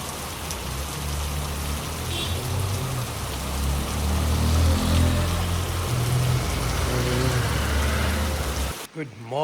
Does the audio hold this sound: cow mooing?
no